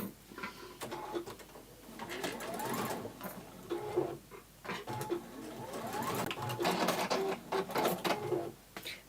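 Sewing machine stitching down the side of an elastic strip on a cosmetic bag: bursts of rapid mechanical whirring and needle chatter, stopping and restarting several times at close range, with no talk.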